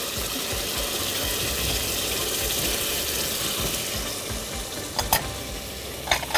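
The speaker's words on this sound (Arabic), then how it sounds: "هحط عليه كمان عصير الطماطم بتاعنا" Tomato juice hits a hot pan and keeps up a loud, steady sizzle and hiss, with a few sharp scraping clicks of stirring near the end; no talking.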